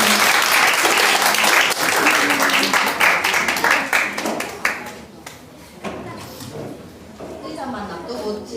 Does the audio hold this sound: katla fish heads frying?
no